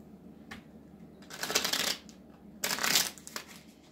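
A tarot deck being shuffled by hand, two distinct riffling bursts, the second after a short pause, each a dense crisp flutter of cards, close but fairly quiet, with no talk over it.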